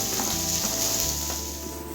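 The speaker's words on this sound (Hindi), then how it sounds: "अब प्याज को हम सौते करेंगे।" Chopped onions sautéing in a tablespoon of oil, a steady close sizzle with faint stirring scrapes running throughout, no voices.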